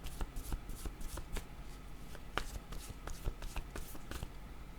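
Tarot cards being shuffled by hand in a quiet room, with a steady run of soft riffling flicks and papery slaps, close and moderately faint, no talking.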